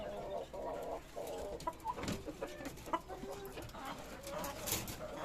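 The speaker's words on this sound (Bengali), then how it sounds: "এই হলো আমার মোরগ মুরগি" Desi roosters and egg-laying hens in a backyard flock in Bangladesh cluck and squawk in scattered, short bursts, fairly close but quiet, with brief gaps between calls.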